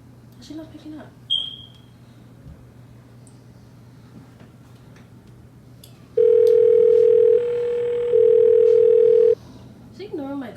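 A phone call rings out unanswered: a steady electronic ringback tone sounds for about three seconds with a brief dip midway, after faint room noise and a few soft knocks.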